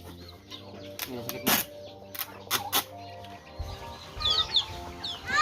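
Turkeys cluck and gobble in short, scattered bursts while being boxed up in a backyard farm, with sharp thumps and rustling of handling nearby and a low motor hum underneath.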